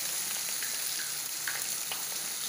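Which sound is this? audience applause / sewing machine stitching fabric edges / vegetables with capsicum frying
vegetables with capsicum frying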